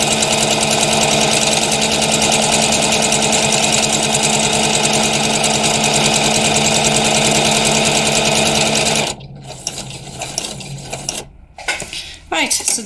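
A sewing machine stitches a buttonhole on its own with a fast, steady, loud whirring rattle for about nine seconds, then stops, followed by quieter handling clatter and a short final burst.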